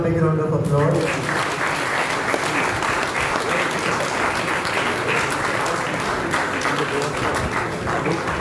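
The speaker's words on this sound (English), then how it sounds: "Let's have a big round of applause." An indoor audience claps steadily at a cooking competition prize distribution, loud dense applause starting right after a brief spoken cue and holding for several seconds.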